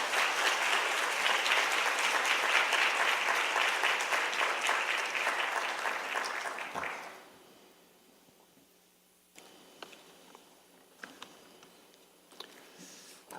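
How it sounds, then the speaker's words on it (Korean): Warm welcoming applause from a church youth congregation greets the pastor, dense and sustained for about seven seconds before fading out into a hushed room with scattered small knocks. "우리 목사님 모실 때 환영의 박수로 모시도록 하겠습니다."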